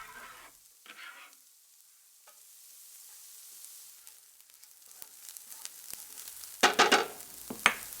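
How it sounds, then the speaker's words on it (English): Shallots sauté in foaming oil and butter in a frying pan with a quiet, faint sizzle that swells into louder crackling and stirring scrapes near the end. "add the shallots and saute for a few minutes until they turn translucent and start to brown slightly"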